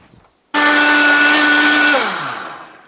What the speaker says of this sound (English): Blend it a little bit more.